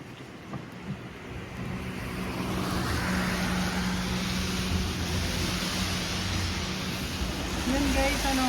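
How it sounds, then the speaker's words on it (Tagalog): Steady, sudden heavy rain outdoors roars loudly and continuously, a broad hissing wash with a low hum underneath. "Grabe, ulan. Bigla naman."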